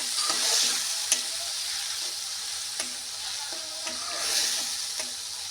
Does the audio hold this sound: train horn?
no